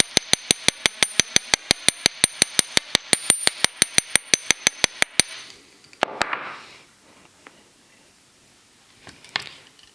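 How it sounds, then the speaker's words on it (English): A small metal hammer taps a wire earring on a hard block in a fast, even series of about twenty close, sharp clinks, then stops, followed by a few softer handling clatters. "making sure you don't hammer the top part."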